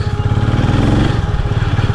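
A motorbike engine idles loud and close at a petrol station in intense summer heat, a steady throbbing putter with a quick, even pulse throughout.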